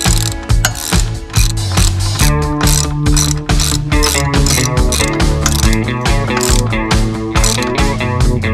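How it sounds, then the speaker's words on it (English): Ratchet wrench cranking 17 mm nuts tight on a Kubota compact tractor backhoe mount, loud rapid clicking in repeated bursts with metallic pawl rattles, close and alone. "So we'll just go around and crank them all nice and tight."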